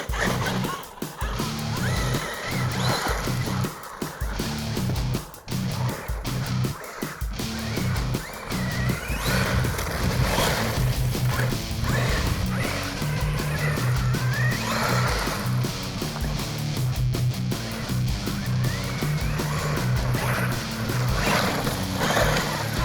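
A Losi Super Rock Rey electric RC truck with solid rear axle and independent front suspension drives hard, its motor whining and revving in bursts with tires scrabbling over ground, loud and close, some stretches briefly cutting out.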